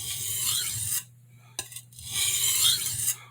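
A santoku knife edge is drawn across a sharpening stone in two long, even rasping strokes, close and clear, separated by a short pause with a faint scrape.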